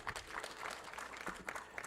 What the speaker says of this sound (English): And another round of applause for all of us who are participating.